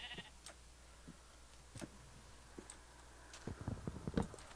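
A single sheep bleat in Minecraft opens the clip, followed by sparse clicks and block-placing taps over a faint, quiet game background.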